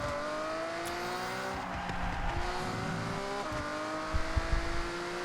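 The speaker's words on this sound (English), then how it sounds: "we're just gonna take a quick time attack lap in the Countach just for fun" Lamborghini Countach on a time attack lap in Forza Horizon: a steady, tonal engine drone rising and dropping with gear shifts, plus brief tire squeal and rumble bursts near the end.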